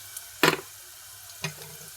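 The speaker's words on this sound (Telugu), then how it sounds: "ఉల్లిపాయలు వేగుతున్నాయండి." Onions with cumin and mustard seeds frying in hot oil as a tempering for a dosakaya dal: two short, sharp sizzling bursts, the first louder and longer, over a quiet background.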